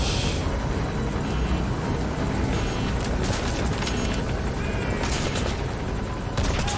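Enemy helicopter in Metal Gear Solid V: The Phantom Pain, a loud, steady roar of rotor and engine noise that fills the whole stretch with broadband rumble and no talk.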